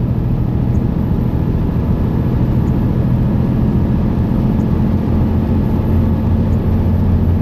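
A Mercedes Actros 1853 Edition 1 truck in eighth gear in power mode, hauling a load uphill, heard as a steady, loud low engine drone with road rumble from inside the cab, unchanging throughout.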